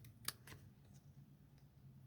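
Scissors snip along the edge of a paper quilt-technique card, a couple of faint, crisp cuts near the start over quiet room hum.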